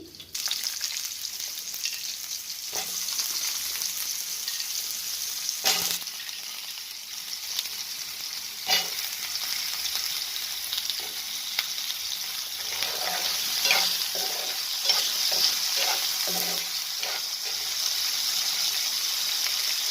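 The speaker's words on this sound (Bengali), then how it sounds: "প্রথমে আলুটা দিচ্ছি" Cut potato pieces fry in hot oil in a pan for Bengali spring-onion stir-fry, a steady close sizzle throughout with scraping stir strokes and soft clinks breaking through at intervals.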